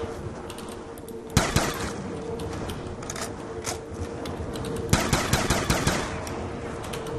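Video game gunfire from M14 and Olympia weapons in Black Ops 2 Zombies, with two loud bursts of rapid shots separated by a few seconds over a steady game background hum.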